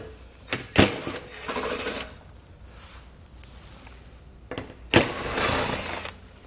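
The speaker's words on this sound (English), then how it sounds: "we'll go ahead and remove these 2 screws here on the bottom." A power tool whirs in two separate bursts while removing two screws from the underside of the plastic skid shield on a 2020 Jeep Gladiator, with quieter handling sounds between.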